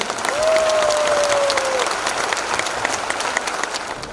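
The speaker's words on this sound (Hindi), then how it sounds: "सबके लिए जबरदस्त ताली।" Audience applause at a Modicare business presentation in Patna fills the room, a dense, steady wash of many hands clapping for several seconds, with a brief voice or tone rising over it early on.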